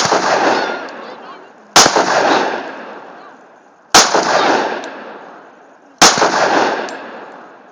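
Four loud, close gunshots ring out at roughly two-second intervals, each a sharp crack followed by a long rolling echo that fades before the next shot.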